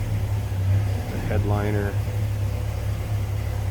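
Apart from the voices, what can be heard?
1972 Chevrolet C10 Cheyenne truck engine running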